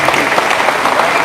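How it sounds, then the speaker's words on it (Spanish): A church congregation breaks into loud, dense applause for a visiting brother at an assembly, a steady close wash of clapping hands filling the whole moment. "Un fuerte aplauso, que se escuche ese aplauso."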